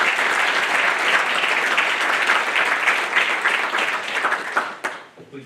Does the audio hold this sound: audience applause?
yes